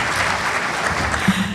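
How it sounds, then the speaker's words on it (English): Audience applause at an education summit, a brief, steady clapping wash that stays even and close, with a faint low voice entering just at the end. "let's give a round of applause to Dr. Kurtinitis and her staff"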